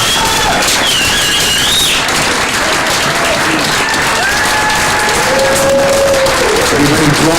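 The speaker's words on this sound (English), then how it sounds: "let's give this gentleman one more loving round of applause" A crowd at an evening celebration gives a loud, sustained round of applause with cheers and whoops, the clapping dense and continuous throughout while raised voices and squeals rise above it.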